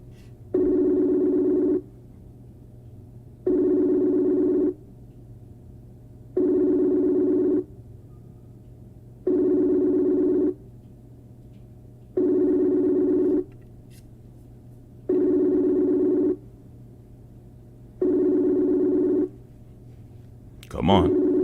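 Phone call ringing through MacBook Pro speakers: seven evenly spaced ring bursts, each about two seconds with pauses between, over a steady low hum, closing with a brief rustle.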